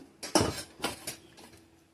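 Washed dishes and a wok being put away, giving a few separate clattering knocks of metal pots and utensils, close and moderately loud, with short pauses between them.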